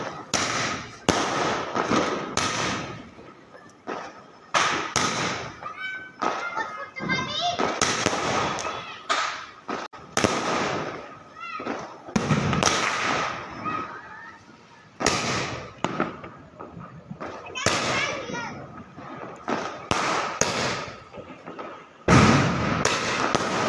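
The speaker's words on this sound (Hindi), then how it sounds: "जला रहे मिर्ची बम" Mirchi bomb firecrackers lit for Diwali, bursting in rapid crackling strings and sharp pops, loud and close, with children and adults talking and shouting between the bursts.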